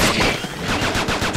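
Triple-shot gunfire in the Xbox 360 game Attack of the Movies 3D comes as a loud, dense stream of rapid shots with a rhythmic pulse, with no talking.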